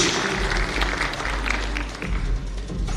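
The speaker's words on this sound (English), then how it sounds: "Please give us the loud round of applause to Mr. Khachaturian for a welcoming speech" Audience applause at a ChainPoints blockchain forum in Armenia after a welcoming speech by the Minister of Economy: a dense, steady wash of clapping from a large room that holds evenly for the whole stretch.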